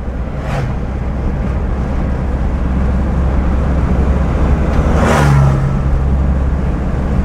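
A 1970 Mercedes 220 D diesel engine runs steadily, a close, continuous low rumble with a brief swell partway through and no voices.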